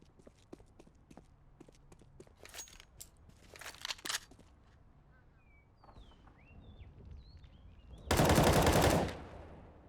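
Gunfire in a competitive first-person shooter match: scattered sharp shots and clicks, a few bursts, then a loud dense blast of firing near the end, with faint game effects in between.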